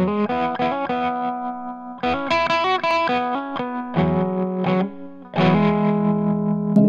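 Electric guitar through a Mooer Trelicopter tremolo pedal, playing chords and single notes with a smooth, gently pulsing vintage-style tremolo, loud and close, with reverb-tinged sustain and short pauses between phrases.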